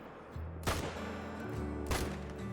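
Two rifle shots fired at a deer in a hunting video game, sharp loud cracks about a second apart, each with a short rumbling tail over quiet ambient background.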